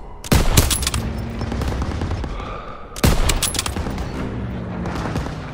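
Suppressive machine-gun fire in Call of Duty WWII at Marigny, France in 1944. Two sharp, loud bursts open separate stretches of rapid automatic fire, with a rumbling battlefield underneath.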